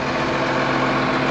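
A tractor engine idles while hitched to a liquid manure spreader on a farm, giving a loud, steady, unbroken low drone close by.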